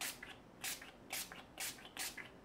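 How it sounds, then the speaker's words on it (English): A spray bottle misting disinfectant mixture, four quick hissing bursts in a steady rhythm, close and fairly soft, with no talk. "This has a highly atomized spray."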